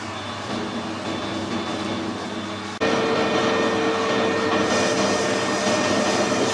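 A lathe cuts a screw thread with a carbide tool, giving a steady, loud machine drone that steps up in level partway through, with no talk.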